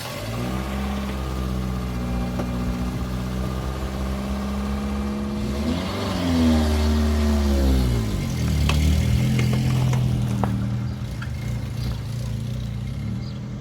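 An older car with a badly worn driver's side CV shaft pulls into a garage. Its engine rumbles nearby and swells in a couple of revs mid-way before settling back to a steady run.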